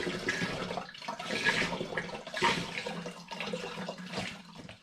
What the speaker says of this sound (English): This is my 3rd litre of apple juice going in.